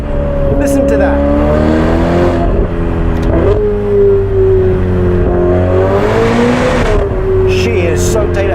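A Novitec-tuned Ferrari F8 Spider with 802 horsepower roars loud and close, its exhaust rising and falling through revs, with someone talking over it.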